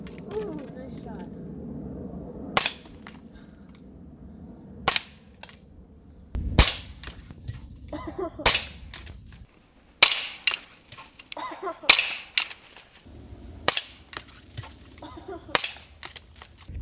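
An Umarex HK VP9 CO2 blowback BB pistol fires about nine sharp, loud cracks spaced a second or two apart, each with a snappy slide clack, while people talk and react between shots.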